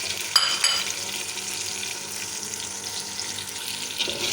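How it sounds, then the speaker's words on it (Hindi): Onions fry in melted ghee for dal, a close, loud, continuous sizzle with a couple of sharp crackles near the start and no voices over it. "प्याज को जो है हम अब फ्राई करेंगे दाल के लिए।"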